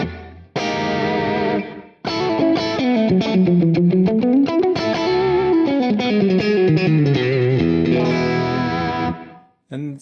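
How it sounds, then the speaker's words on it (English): Distorted electric guitar played through a Quad Cortex with reverb added, sustained chords and a bending lead line ringing out with a washy tail, loud and close. "You can bring in some reverb."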